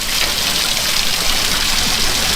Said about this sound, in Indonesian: Terus airnya ngalir.